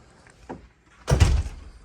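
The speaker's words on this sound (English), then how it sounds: "I'm going to set it down here for just a second while I shut the door." A door shuts indoors with a solid thunk and brief rattle, near and fairly loud, after a faint softer knock and a short silence.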